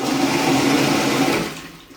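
A toilet flushing in Germany, a loud rushing of water that holds steady and then falls away toward the end, with no talking.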